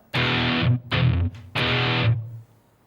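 Distorted electric guitar plays three loud chord bursts, an accented stroke, a short palm-muted chord, then another accent. Alternate picking and left-hand muting are used, and the last chord rings briefly before cutting off.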